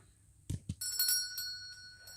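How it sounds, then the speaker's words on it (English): Small bell above a shop door in the video game Our Wonderland, two soft knocks followed by a bright ringing chime that lingers and fades, heard alone. "A little bell above the door rings as I step inside"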